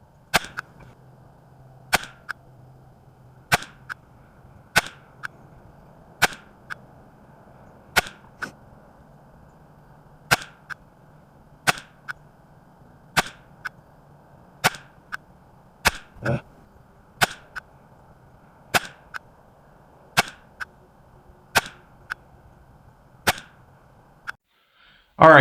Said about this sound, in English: So let's throw that back in the rifle and shoot 4 more groups.